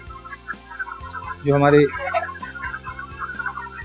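Broiler chickens crowd a poultry farm shed of about 5500 birds, filling the air with constant clucking and chatter plus one louder, sustained squawk, while someone talks over them.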